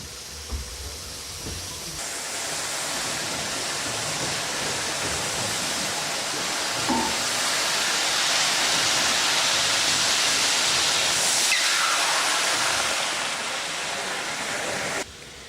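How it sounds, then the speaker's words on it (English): A steady, broad hiss of escaping steam builds gradually as a beam pumping engine's throttle opens at Crofton pumping station, holding loud for several seconds, with faint clanks and rumbling underneath. "he slowly opens the steam throttle"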